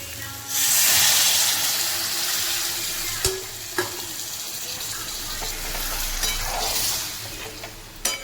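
Potatoes sizzle and fry steadily in a pan as a masala mixed with hot water is poured in, with a loud frying hiss followed by a few clinks of stirring, for a Maharashtrian potato curry.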